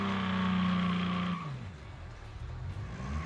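Racing-game car fitted with a Roots supercharger and a broken exhaust, its engine droning loud and steady before the revs drop sharply around mid-clip into a rougher, lower rumble with tire noise.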